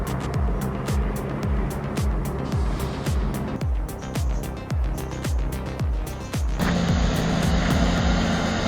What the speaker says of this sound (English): The truck carrying timber rushed slowly but powerfully up the steep slope.